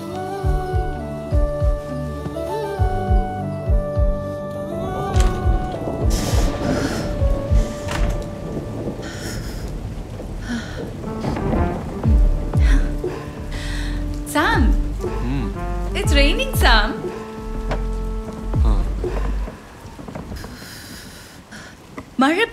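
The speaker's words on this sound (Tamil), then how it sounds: "மழை பெய்யுது" Rain falls on an apartment building, heard as a steady wash with rolling thunder beneath a music score and voices talking, the storm fairly loud throughout.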